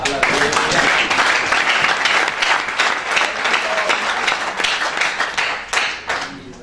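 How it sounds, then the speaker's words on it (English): A church congregation claps their hands for Jesus in steady, dense applause that fills the whole stretch, with faint voices mixed in and a slight thinning toward the end. "Can you clap your hands for Jesus?"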